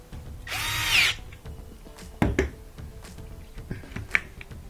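A power wrench drive spins on a washer motor during a repair, a close, loud whirring burst lasting about half a second, followed by scattered clanks and knocks of metal parts being handled.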